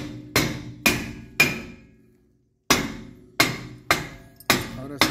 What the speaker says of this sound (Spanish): dale un golpe con un martillo, un marro, para que despegue el tambor